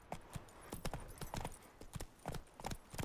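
Horse hooves clop at a quick, rhythmic gallop in The Witcher 3, steady and fairly faint, with no talk over them.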